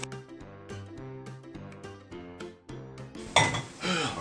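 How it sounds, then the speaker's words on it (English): Potatoes being mashed in a metal pot for Jamaican hash and mash, a run of clanking, scraping knocks from the masher against the pot, steady and close, building to a louder clattering burst near the end. "Give them another mash."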